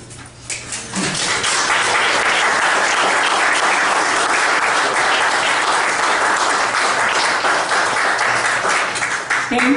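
An audience at a poetry reading in a museum applauds with sustained, dense clapping that stays loud from start to finish.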